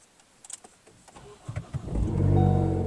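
Ford Focus ST engine cranking briefly and catching, settling into a loud close idle rumble in the final second after quiet clicks and rustles.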